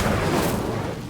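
An Incendio fire spell cast in Hogwarts Legacy on PS5 gives a loud, dense roaring burst of flame that fills the whole moment with a rumbling, booming rush, with no talking.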